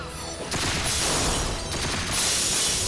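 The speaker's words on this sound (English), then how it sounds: "There's like a fireworks show of gauge breaks." Gauge breaks in the Resonance of Fate video game go off like fireworks, a rapid run of loud crackling bursts and booms that swells in two waves, with no talking over it.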